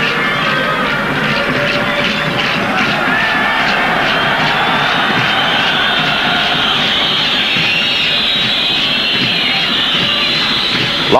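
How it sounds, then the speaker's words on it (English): Loud, continuous whistling from a packed football stadium crowd at the 1994 African Cup of Nations final between Nigeria and Zambia, a dense shrill wash mixed with crowd roar throughout. "Loud whistling in the crowd there"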